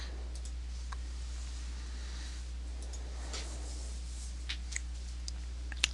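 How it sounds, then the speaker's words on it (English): Computer mouse clicks while selecting a link during website content editing: a few faint, sharp, isolated clicks scattered over a steady low electrical hum, with no speech. "Clicking on the link."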